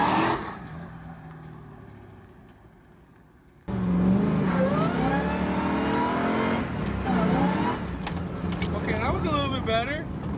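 A Hellcat-engined Miata launches hard down a drag strip, its engine roaring up loud and close after a quiet idle, with the revs climbing steadily through the run while a voice talks over it.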